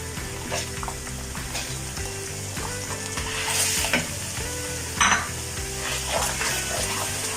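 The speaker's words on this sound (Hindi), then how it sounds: "थोड़ा सा इसको फ्राई कर लूँ।" Masala spices with turmeric and coriander powder fry in a pan for aloo gosht curry, sizzling steadily while a utensil stirs and scrapes against the metal in repeated strokes, with occasional clinks close by and no talking.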